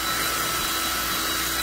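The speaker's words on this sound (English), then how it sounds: "So I'm just gonna have to work the side of the drill on it like this." A power drill bores sideways into a wooden dowel hole on a broken wooden chair to widen it, giving a continuous loud whirring, grinding rasp with no pauses.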